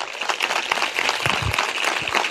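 An audience at a Christian church gathering claps loudly together, a continuous dense patter with a few low thumps partway through and no talk over it.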